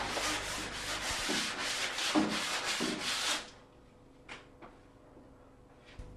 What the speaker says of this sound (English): Now rub the planed edge down with a medium-grade glass paper.